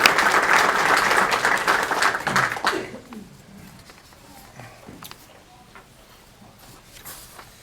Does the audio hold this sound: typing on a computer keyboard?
no